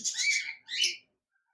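Two short, bright whistled calls from a pair of cockatiels in a cage at a bird farm, the second call following closely after the first, then quiet.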